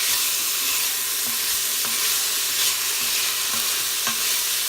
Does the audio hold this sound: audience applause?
no